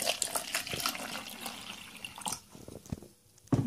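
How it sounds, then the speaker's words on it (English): Tap water runs steadily into a measuring jug at close range, a continuous splashing pour that cuts off near the end with a brief clunk. "And fill up the water to"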